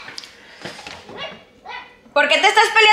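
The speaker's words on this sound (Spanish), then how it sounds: "perros que no se callan" Several dogs bark and yip in short irregular bursts, near and fairly loud, with a louder cluster of barking near the end and a voice mixed in among them.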